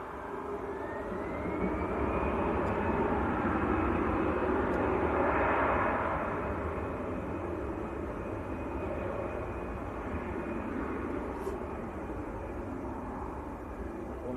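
An easyJet jet airliner rolls for takeoff at Manchester Airport with a broad, sustained engine roar that builds and swells as a rising whine climbs. The roar stays loud throughout before easing slightly toward the end.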